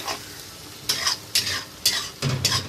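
Beef brain masala with softened tomatoes stir-fried in oil, a low sizzle broken by four distinct bursts of spoon scraping at regular intervals, close and clear without speech.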